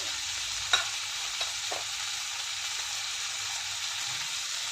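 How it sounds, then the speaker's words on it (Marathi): Green chickpeas sautéing in a pan with turmeric and garam masala give a steady, close sizzle with a few sharp stirring scrapes of a spoon against the pan, no voices. "गरम मसाला मिक्स करून परतून घेऊया."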